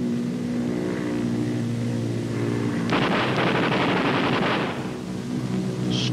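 Aircraft gunners fire at a towed practice target from a Consolidated bomber in flight; a burst of rapid machine-gun fire lasting about two seconds breaks through the constant loud drone of the plane's engines.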